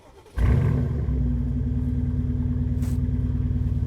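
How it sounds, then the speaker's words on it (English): The 2022 F1 safety car's engine cranks and catches after a brief quiet moment, then settles into a loud, steady, throbbing idle close by, with no voices heard. "I'm turning on the safety car."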